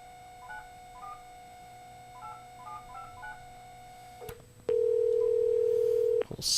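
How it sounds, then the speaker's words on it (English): Telephone dialing tones: a quick run of paired keypad beeps, then a loud steady ringback tone that holds for about two seconds before cutting off, with no talk over it. "We'll see if they pick up the phone."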